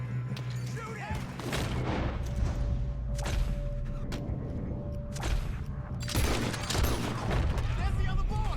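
Gunfire in the Red Dead Redemption 2 video game, loud bursts of shots and booming blasts crowding together in a chaotic firefight, with people shouting over the noise.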